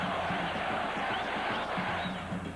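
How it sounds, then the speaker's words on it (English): A home crowd at a 1983 USFL divisional playoff football game between the Oakland Invaders and Michigan Panthers roars in a dense, sustained wash of cheering, with shouts rising over the din. "which fires up the home crowd"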